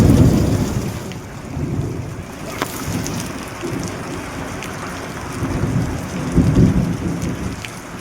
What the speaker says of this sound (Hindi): शाम से ही झमाझम बारिश हो रही है।